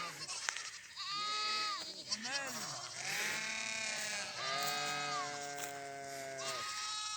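Goats and sheep bleat repeatedly while grazing, several loud overlapping calls from close animals filling the scene with little pause.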